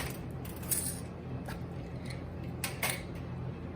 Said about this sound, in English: Give it a little shake